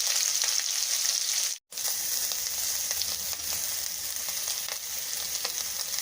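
Bitter gourd frying in a pan, a steady, loud, close sizzle with small crackles throughout and a brief cut to silence partway.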